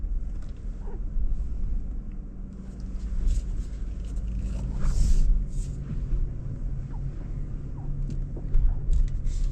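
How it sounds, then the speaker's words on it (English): A 2025 Nissan Patrol Warrior in high range off-road, wheels spinning too fast, giving a continuous low engine rumble with scraping and gravelly crunches from the tyres, close and steady, with no talking. "I can see that it's just spinning the wheels too fast"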